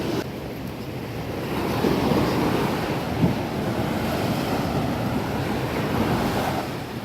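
Steady surf washes in at Suwehan Beach on Nusa Penida, Bali, a continuous broad roar of breaking waves with gusty wind buffeting the microphone throughout.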